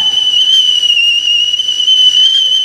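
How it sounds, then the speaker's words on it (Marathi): A loud, sustained high-pitched pressure cooker whistle, steady and shrill throughout, with no other sounds. "कुकरची शिट्टी."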